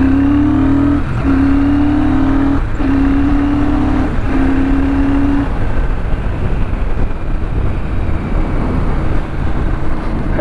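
Royal Enfield Super Meteor 650 motorcycle accelerating hard, its loud engine rising in pitch through several quick gear changes before settling into a roaring rush of wind and exhaust.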